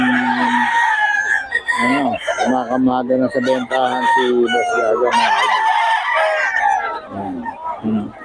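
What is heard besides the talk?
roosters crowing and clucking at a market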